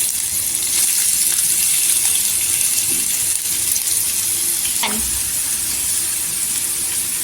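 Chopped onion dropped into hot oil with cumin seeds and a pinch of asafoetida, a loud continuous close sizzle that stays even throughout, with no talk.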